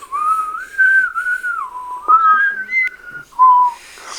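A person whistles a wavering, slightly off-key tune in short phrases, clear and close with quiet pauses between notes.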